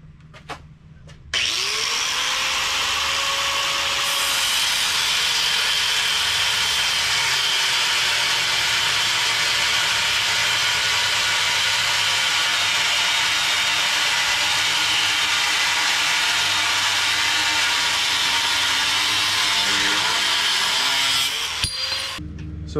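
An angle grinder cutting steel for a welded trailer jack stand, starting abruptly and holding a loud, continuous high-pitched grinding whine for about twenty seconds before stopping, with no talk over it.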